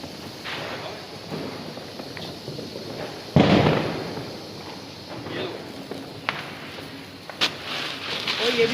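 Diwali firecrackers going off outdoors, with one loud sharp bang near the middle and a few lighter pops and crackles later, heard over a lively background of people talking.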